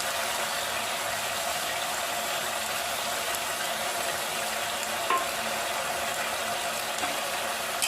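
Jackfruit curry with a ground paste of onion, garlic, tomato and green chili fries in a pan, a loud, continuous sizzling hiss that holds steady throughout with no talking.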